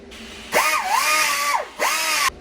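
Power tool punching holes through the metal tube of a welded catch can: two loud whining bursts with sweeping pitch, the first about a second long and the second shorter, close up with no talk.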